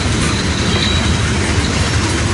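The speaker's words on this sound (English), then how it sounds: "That's about a mile train right there" A roughly mile-long train rolls past close by, a loud continuous rumble with faint rhythmic clatter of wheels and a thin squeal riding above.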